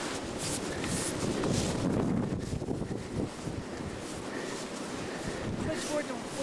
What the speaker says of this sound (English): We've got blizzard conditions. It's a very wet snow now.